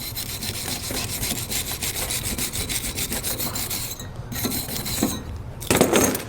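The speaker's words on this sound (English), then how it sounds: "Once it's dried off, you can shine it up with a brush." Steady rhythmic scrubbing of a brush over a cooled oxy-acetylene gas weld on metal, close and continuous with quick back-and-forth strokes.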